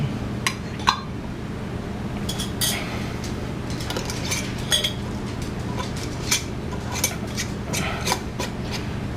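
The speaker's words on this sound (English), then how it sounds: "Now we'll put our lids on. These are my Dollar Tree lids." Dollar Tree lids set onto hot glass jars of homemade ghee, scattered light clinks and metallic taps over a low steady background rumble, close and without talk.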